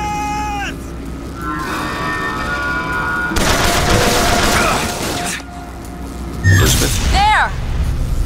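Gunfire and booming impacts in the video game Bioshock Infinite, a dense stretch of shots in the middle with shouted game dialogue and mechanical noises around it.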